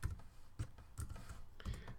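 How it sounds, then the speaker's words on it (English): Typing on a computer keyboard: a few separate clicking keystrokes, quiet and close, in an irregular rhythm with short pauses between them and no talking. "Let's just get some keyboard input."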